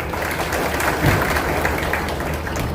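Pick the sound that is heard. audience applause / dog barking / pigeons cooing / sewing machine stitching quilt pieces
audience applause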